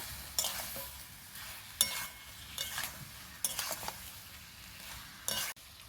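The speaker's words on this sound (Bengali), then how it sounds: "এইভাবে নাড়াচাড়া করে কিছুক্ষণ কষিয়ে নেব।" Chicken frying for a malai curry is stirred in a pan, with a steady soft sizzle broken by irregular spoon scrapes and clatters against the metal, close by and without any talking.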